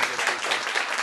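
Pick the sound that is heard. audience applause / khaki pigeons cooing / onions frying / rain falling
audience applause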